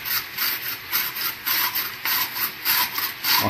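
A kitchen knife slices bell pepper into thin strips on a cutting board, giving a soft, steady run of close scraping, rasping strokes in a quick rhythm with no talk.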